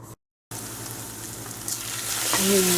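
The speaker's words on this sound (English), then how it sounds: "I'm gonna add my green onions as well as garlic mixture" Green onions and garlic hit hot coconut oil with a close, steady sizzle that swells louder after a brief cutoff at the start; no talking.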